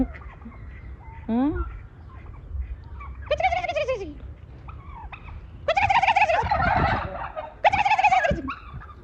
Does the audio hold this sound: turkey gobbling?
yes